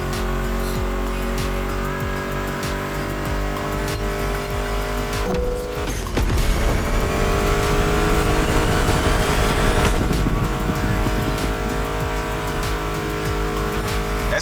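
American muscle cars in The Crew Motorfest on PS5 rev and accelerate hard, with loud engine roars and tire squeal surging midway over a continuous racing din.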